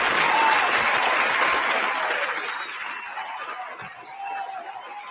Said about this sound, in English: Let's give her a clap.